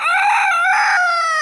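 Chickens and roosters on an off-grid homestead on a wet spring day: a loud, close rooster crow with strained harmonic calls and some clucking, steady for the whole moment with no talk.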